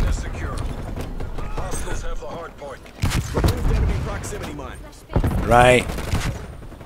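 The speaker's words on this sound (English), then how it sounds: "RPD. Light machine gun. That's what I'm playing at the moment." Gunfire from an RPD light machine gun in a Call of Duty match on the Nuketown map rings out as loud bursts among other battle sounds, while a player talks over it.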